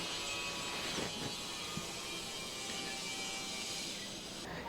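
A kitchen mixer grinder blends soapnut seeds, gooseberry pieces and water for a healthy summer drink, giving a steady, loud motorized whir that holds constant throughout with no talk over it.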